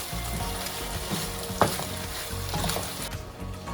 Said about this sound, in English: now I'm gonna go ahead and just caramelize the meat in its own fat and oils